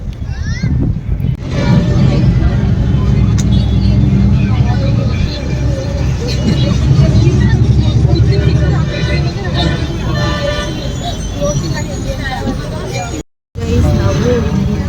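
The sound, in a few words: auto rickshaw ride through traffic in Mysore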